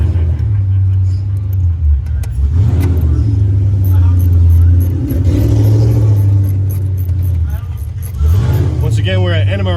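Ford Mustang Cobra Jet cars idle and rumble around the grounds at NMRA Beach Bend Raceway Park, a loud, close, deep engine drone that swells and dips, with talk over it.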